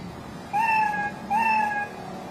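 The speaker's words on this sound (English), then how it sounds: "Cat." Two synthetic cat meows from an educational kids' toy phone, each a clear, tonal electronic call about a second long, separated by a short gap, loud and close with no talk.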